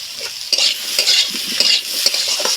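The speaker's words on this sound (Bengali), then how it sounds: "খুব হাই ফ্লেমে এটা একটু ভেজে নেব" Capsicum and thickly cut onion frying on a high flame in a pan, a steady sizzle broken by repeated scraping stirs and light utensil knocks, close and fairly loud.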